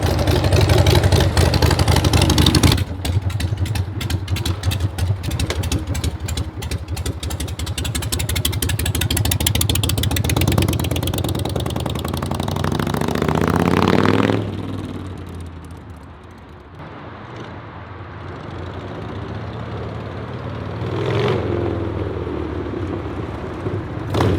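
A chopper motorcycle engine cranks and fires, running with a loud rapid chugging idle for several seconds, then the revs swell and fall away before it settles into a quieter idle with brief surges near the end.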